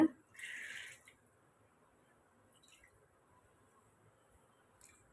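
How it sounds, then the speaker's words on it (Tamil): A brief, soft pour of water into ragi flour mix splashes for under a second, followed by near silence and a couple of faint drips. "தண்ணியே ஊற்றிக்கலாங்க"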